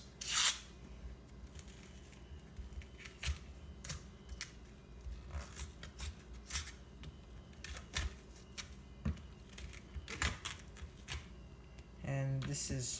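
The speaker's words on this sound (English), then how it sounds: "You're going to want to use a knife to cut a little opening on the onion skin. So this way you can peel your desired amount off." A knife cuts and peels the dry skin of an onion for pizza making, giving scattered crisp rustles, scrapes and tearing crackles with short pauses between them.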